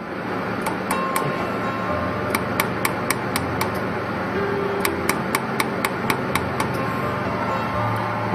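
A laser welding machine fires pulses onto a piece of steel inside its chamber, producing sharp, evenly spaced ticks in quick bursts over a loud, constant machine drone.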